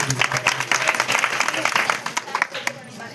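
An audience claps together in a quick, uneven patter that continues for a few seconds and thins out toward the end, with a voice heard briefly at the start.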